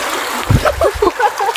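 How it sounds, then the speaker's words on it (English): Water splashing outdoors near people wading, brief close splashes and splatters over a steady trickling, stream-like background, with voices talking over it. "Don't splash us. You're getting us wet."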